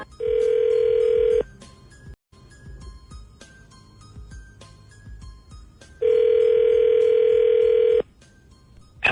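A telephone line rings out in two long steady tones separated by a few seconds of quiet line hiss, placed while calling a man named Brandon.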